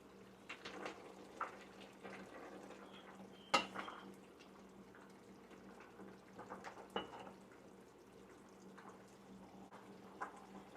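Pork igado or adobo being stirred with dry peas in a pan, with quiet scraping and clinks of a utensil against the pan, a few sharper knocks, and a faint simmer underneath.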